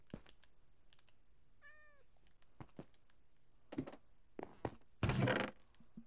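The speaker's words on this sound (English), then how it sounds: "Kitty cat." One short, clear cat meow in the Minecraft video game in hard mode, heard over quiet keyboard typing and clicks, followed by a louder brief thump.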